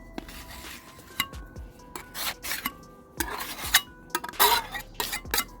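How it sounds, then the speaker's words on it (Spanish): Car body filler putty is scooped and worked with a metal spatula on a hard surface, giving irregular scraping, rasping strokes and small clinks, close and fairly quiet, with no talk. "Primero y principal es la masilla. Vamos a prepararla acá."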